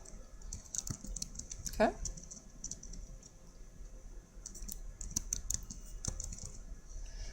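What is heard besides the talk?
typing on a computer keyboard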